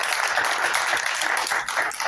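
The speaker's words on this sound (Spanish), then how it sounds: "Un aplauso para Sara" A short burst of audience applause for a speaker named Sara at a book launch, steady and fairly dense clapping from a crowd with no talk over it.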